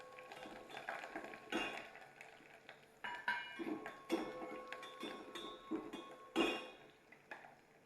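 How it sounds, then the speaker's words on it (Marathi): Green chillies go into a pan of garlic and mustard seeds frying in oil, with clinks and knocks of a utensil against the pan and occasional louder clatters at an irregular pace, fairly close. "थोडी मोहरी आणि असे लसूण तळले गेल्यावर मिरच्या टाकून द्यायचे."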